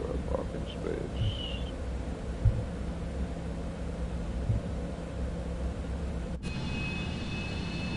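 Quiet, steady engine hum and whooshing rumble of a Cessna private jet taxiing in Microsoft Flight Simulator 2024, with a few soft clicks and a brief tonal blip, then a sudden switch to a higher whine near the end.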